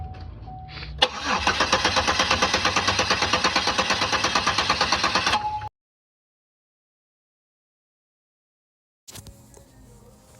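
Toyota Tacoma engine cranking over for about four and a half seconds with a steady, rapid starter rhythm, loud and close, followed by silence and then a faint resumed background.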